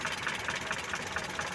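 A Mitsubishi Colt T120 engine idles steadily up close, a continuous mid-pitched running hum with a faint regular ticking pulse and no voices.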